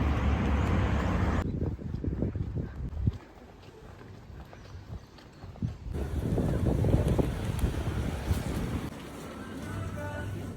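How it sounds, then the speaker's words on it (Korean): Wind gusting outdoors on Jeju Island in summer, buffeting the microphone with loud, rumbling bursts that rise and fall, with faint background activity. "바람 부니까 좀 시원한 것같아"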